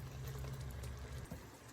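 Jalapeno pepper jelly pours into canning jars with a faint, steady liquid rush and low gurgle, quiet and close, with no one talking.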